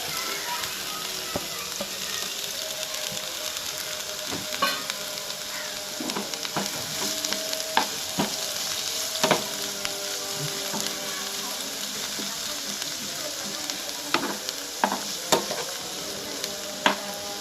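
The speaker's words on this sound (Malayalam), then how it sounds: "ഈ സൈഡിൽ കുറച്ച് വെളിച്ചെണ്ണ ഒഴിച്ചിട്ട് നമ്മൾ ഉള്ളി ഒന്നുണ്ട് വാട്ടുന്നത്. പച്ചമുളകും ആ ഉള്ളിയും" Onions and green chillies sauté in coconut oil with a steady sizzle, broken by scattered clicks and scrapes of stirring.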